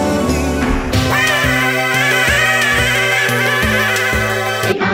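Harp strings ring with sustained resonance: a loud, close series of warm tones that shift in pitch over a continuous bed of ringing overtones.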